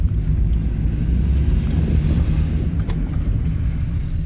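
A 1986 Toyota Starlet EP70 car drives along, its steady low engine and road rumble heard from inside the cabin, continuous and fairly loud, with no speech.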